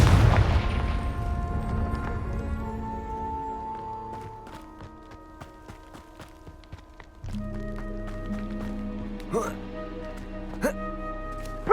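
A Confringo blast spell in Hogwarts Legacy goes off with a loud boom at the start. It decays into ringing game music and scattered effects, and a louder musical swell comes in later.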